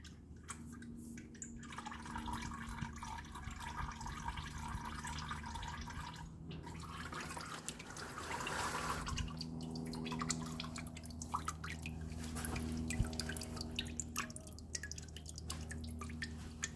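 Transmission fluid from a Nissan X-Trail T31 2.5L CVT drips into a bucket as a faint, continuous patter of small drips and trickling liquid, heard alone and at low level.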